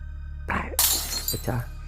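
A plate breaks inside a house, a sharp crash followed by scattered shattering pieces clattering, fairly close and loud against a quiet background.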